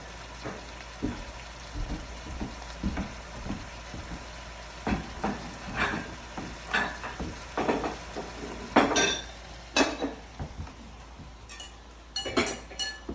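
Pork caramelizing in a hot pan gives a steady low sizzle, broken by repeated clinks and scrapes of a utensil stirring and tossing the meat, close up with no voices.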